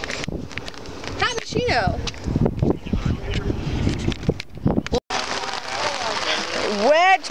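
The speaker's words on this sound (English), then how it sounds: "Oh, wind's picking up." Wind gusts outdoors on a wet Fourth of July, rumbling against the microphone under near, continuous chatter and exclamations from several people.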